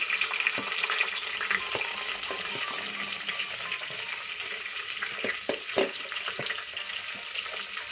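Onions and two green chillies fry in a pan while cooking chicken biryani. A soft, continuous sizzle is broken by occasional stirring scrapes and taps.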